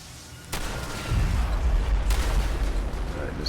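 Gunfire in the video game Fallout: a sudden loud burst followed by sustained rumbling booms and crackling shots under a dense, noisy mix.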